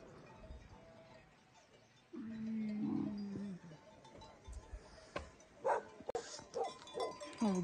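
A Bhote dog barks in a rural village amid livestock, with a few short, uneven barks at moderate distance. A sustained tonal call rises midway, and other animal and farm sounds are faintly audible around them.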